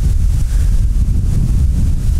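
Strong gusting storm wind roars and buffets the microphone during river fishing in a squall of about 28 m/s, a loud, steady low rumble with no speech.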